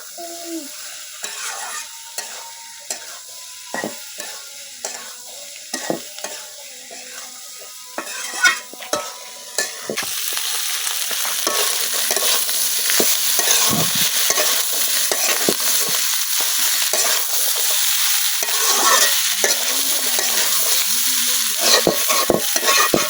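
Chickpeas (boot) frying in a pan for iftar, with stirring scrapes and clinks over sizzling that grows louder and fuller partway through.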